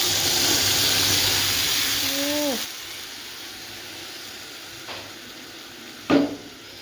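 Paste of dried red chillies is poured into hot oil in a wok for momo chutney. A loud, dense sizzle hisses for about two and a half seconds, then drops to a quieter simmer with a couple of faint clinks.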